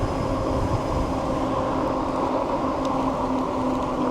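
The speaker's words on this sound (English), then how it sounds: "Ooh, you hear that motor? That sounds good." A Diton Tank300 electric bike motor runs under pedal assist with a steady, continuous whine over a broad rushing drone, constant in level throughout.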